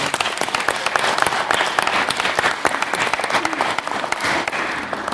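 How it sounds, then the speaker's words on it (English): Sustained applause from a debate audience fills the hall, dense steady clapping throughout with some crowd murmur, loud and close, no speech over it. "could we give them a round of applause?"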